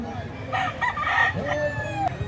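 A gamecock rooster crows once, a clear, drawn-out call close by, with faint background chatter from a poultry market.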